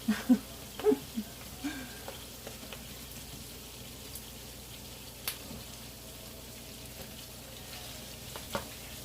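Potatoes frying in oil in a pan for a Spanish omelette, a soft bubbling sizzle with occasional stirring knocks near the start, faint and close.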